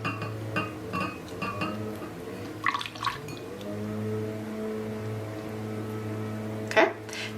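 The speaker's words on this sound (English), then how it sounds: "We're gonna put him in our bowl with the soapy water, and I'm just gonna use my fingers to clean the ink" A rubber stamp is rubbed clean by hand in a bowl of soapy water, with soft splashes, drips and a few light clinks against the bowl over a steady low hum.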